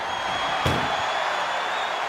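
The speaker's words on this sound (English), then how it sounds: "Pushing with every fiber of their being to slam the door." An ambulance door slams shut once during a WWE ambulance match, a single sharp bang cutting through the steady roar of an arena crowd.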